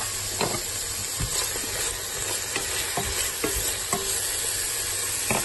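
Leek and onion sizzle in oil with a little salt in a pan, a steady hiss with occasional stirring scrapes and clicks, close and continuous, with no talking.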